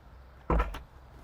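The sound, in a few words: cab door of a Merlo MF42.7 telehandler opening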